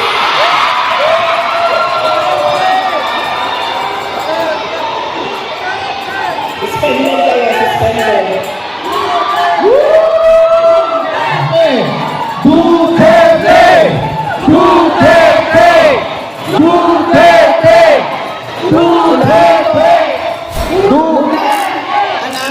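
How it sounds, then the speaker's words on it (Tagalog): A large crowd at a Hong Kong rally for Vice President Sara Duterte shouts her name in rhythmic repeated chants and cheers, loud and close, rising in bursts after a noisier murmuring start. "Dahil sumisigaw ng Duterte"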